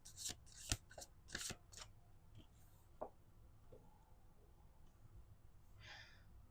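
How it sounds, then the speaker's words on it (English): Tarot cards are shuffled in a few quick riffling bursts near the start, followed by softer handling sounds and faint breaths in a quiet room. "We're going to do two more shuffles."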